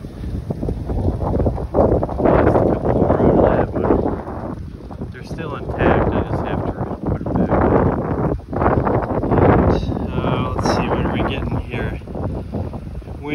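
Strong outdoor wind buffets a three-blade vertical-axis wind turbine in gusts of roughly 6 to 10 metres per second, a loud continuous rushing roar that swells and eases throughout.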